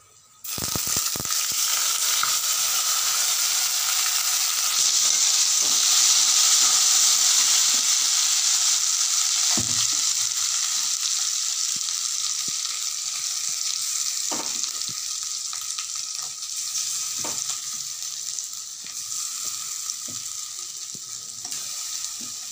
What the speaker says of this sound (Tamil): எண்ணெயிலேயே மசாலாவை நல்லா வதக்கணும்.